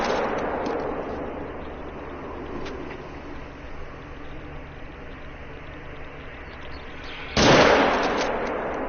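A single loud, close rifle shot from a .300 in The Hunter: Call of the Wild bursts over steady outdoor ambience near the end, followed by a brief fading tail.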